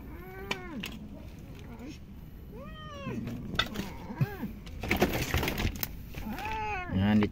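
A sick cat resting where it sleeps indoors gives several separate plaintive meows, close by and fairly clear, spaced apart, with a person talking softly between them.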